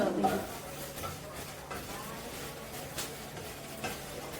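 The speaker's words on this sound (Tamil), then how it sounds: "பூண்டு ஒரு 10 பல்லு நல்லா தோல் முடிச்சுட்டு நல்லா வறுத்துக்கோங்க" About ten peeled garlic cloves fry in a pan with a soft, steady sizzle, broken by occasional stirring scrapes, all fairly quiet and close.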